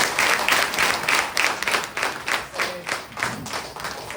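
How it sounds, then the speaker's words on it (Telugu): An audience at a motivational talk claps with its members on their feet, a dense rhythmic patter of many hands pulsing in steady waves for about four seconds, with no voices over it. "ఒకసారి నిల్చున్న వాళ్ళందరికీ ఒకసారి క్లాప్స్"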